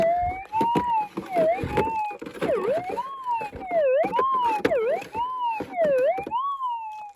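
A metal detector sweeps for gold in a gorge in far North Queensland, giving a loud, continuous target tone that warbles repeatedly up and down in pitch with a steady rhythm.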